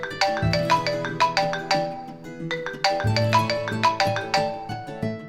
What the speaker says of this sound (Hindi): उसी समय दूसरी तरफ फोन का अलार्म बज रहा था।